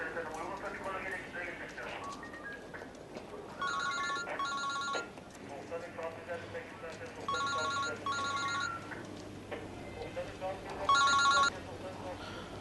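A telephone rings in three short bursts of bright, trilling bell tones, separated by pauses, with background noise and some talk underneath.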